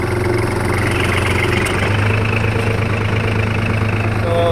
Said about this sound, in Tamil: வண்டி சவுண்டும் பாருங்கள் எப்படி இருக்குன்னு